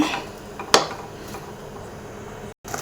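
A spoon clinks against a pan while palak paneer gravy is stirred, with one sharp metallic knock near the start and soft scraping after, close up and with no talk.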